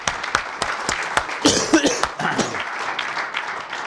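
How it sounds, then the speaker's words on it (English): Scattered clapping from a panel-discussion audience, a few sharp claps building into a brief round of applause near the middle, mixed with coughs and murmured voices before thinning out. "Please give our panelists a round of applause."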